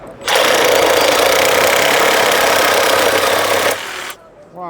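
A power saw blade cuts through a quarter-inch trailer lock in one loud, steady grinding burst of about three and a half seconds, then spins down, followed by a brief voice.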